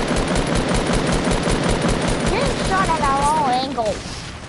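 Rapid video game gunfire rattles continuously as steady automatic bursts, loud and close, before tapering off near the end while a warbling tone rises over it.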